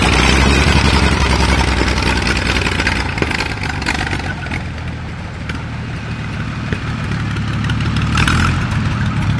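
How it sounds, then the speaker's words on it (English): An old car engine at a hill climb event runs loud and close, rumbling steadily with a slight dip and then swelling again as it revs. "Can I hear an engine roar?"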